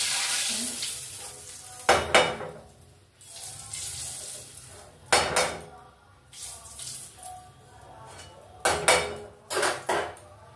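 Bhola fish going into hot oil in a pan, giving a soft sizzle broken by several sharp bursts of spattering and clattering from the pan.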